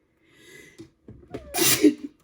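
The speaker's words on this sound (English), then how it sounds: "I have to sneeze" A single person sneezes close by, a short sharp inhale and gasp followed by a loud burst, with a little breathing before it.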